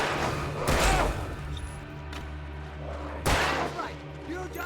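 Gunshots in the survival-horror game Alan Wake Remastered: two heavy shots a few seconds apart, loud and close, over a low droning background, with a voice talking in between.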